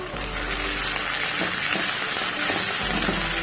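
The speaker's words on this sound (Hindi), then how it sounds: "ऐड करूँगी प्याज, अच्छा सा भूनूंगी इसको।" Cumin, garlic and onion fry in hot oil in a pan, giving a steady close sizzle with a few soft clinks of stirring partway through.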